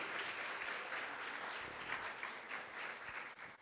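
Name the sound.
congregation applauding in church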